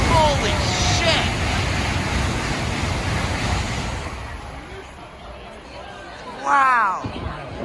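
A Japanese bullet train rushes past at speed, making a loud broadband roaring whoosh mixed with wind buffeting the microphone. The roar fades and excited voices exclaim near the end.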